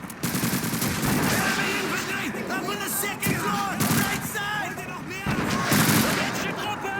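Gunfire in the World War II video game Call of Duty 2, a dense sustained fusillade of rifle and machine-gun shots with booms and overlapping game effects, loud and continuous throughout.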